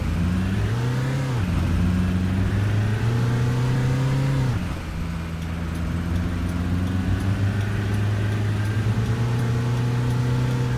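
BB40 minibus engine in Fernbus Simulator, a loud steady droning hum that swells as it revs, dips briefly midway, then settles back into a constant noisy buzz with no talking.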